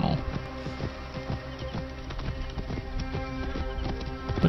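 A camel being ridden in the desert in the video game Assassin's Creed Origins, with steady rhythmic hoof footfalls at a trotting pace under a game soundscape, a voice talking over it.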